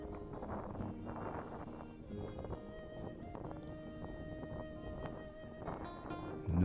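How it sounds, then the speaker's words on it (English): Wind blowing outdoors along the Cabot Trail and Bay of Fundy coast, a steady broadband rush with buffeting on the microphone running throughout, loud and close, with no talk. "the wind just really blows everything around"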